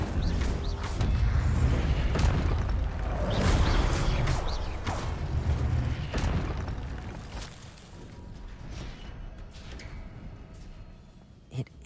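Incendio fire spell effects in Hogwarts Legacy: a run of rumbling bursts and whooshing blasts, loud and busy early on, then thinning to quieter crackles with one sharp pop near the end.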